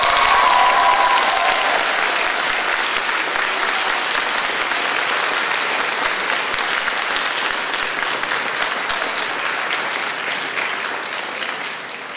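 An audience at a medical school white coat ceremony claps in sustained, dense applause that stays loud and fairly even, tapering off slightly toward the end, with no voices on top.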